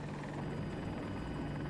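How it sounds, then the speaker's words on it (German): A transport helicopter in a video game, heard from an AH-64 Apache battle, drones in a steady, fairly distant rotor hum for a short stretch, with no voices over it. "Das ist Transport Heli doch."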